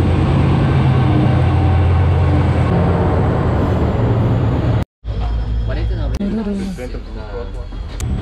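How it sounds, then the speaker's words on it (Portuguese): Train pulling into Marumbi station on a mountain railway, a loud sustained rumble and rolling clatter dominating, then after a brief cut a quieter stretch with people talking over lingering rail noise. "E agora que o trem tá chegando, que eu nem sei se é ele."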